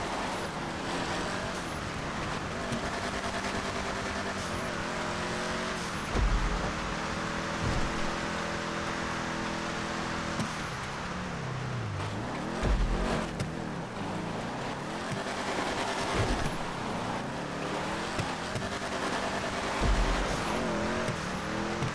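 Cars race in a rally event in the video game GTA V, engines revving continuously with pitch climbing and dropping through gear changes, with occasional tire squeals and thuds from landings.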